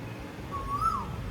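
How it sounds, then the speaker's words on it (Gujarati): Asian koel perched in a neem tree, giving a single clear rising-and-falling whistled call over a low background rumble, moderately near and alone without voices. "જો કેવો સ્વર છે, મસ્ત કોયલ બોલે છે."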